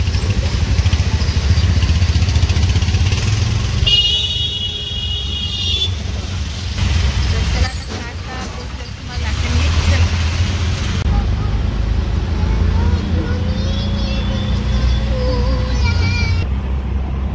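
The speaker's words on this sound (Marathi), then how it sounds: "ट्रॅफिक लागले, पाऊस पडतोय" Road traffic in the rain, heard from a moving vehicle: heavy engine rumble from cars, trucks and motorcycles, tones from passing horns and a brief hiss like an air brake.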